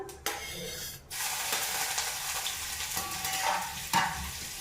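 Nigella seeds and chopped garlic fry in hot oil with dried red chillies, giving a loud, close, continuous sizzle that bursts in suddenly after a brief clatter and carries on steadily, with occasional stirring.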